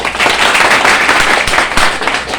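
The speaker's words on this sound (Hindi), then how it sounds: "अब आपकी सारी तालियां जानी चाहिए झाला के खाते में" Audience applause at a talk about Maharana Pratap and Jhala, a steady dense wash of clapping from a crowd, loud and continuous with a few sharper claps standing out.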